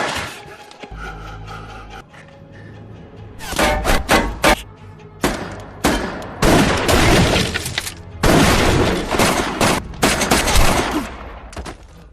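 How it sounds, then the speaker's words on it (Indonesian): Gunfire rattles through a shootout scene in the 2020 film Time to Hunt: loud bursts and single shots come in clusters, with breaking, shattering debris between them. "Jang-hoo diminta menembaki Han dari kejauhan"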